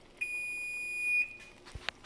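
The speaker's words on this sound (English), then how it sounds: "Now we turn the timer off." Kitchen cooking timer beeping with a steady high electronic tone for about a second, followed by a couple of faint clicks and taps as it is switched off, all fairly quiet with no talking.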